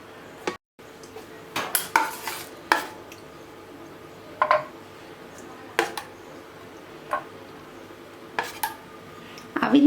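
Instant semolina (rava) idli batter is stirred in a bowl with a spoon, giving sparse, intermittent metallic clinks and soft scrapes against the bowl over a quiet background, with no talking.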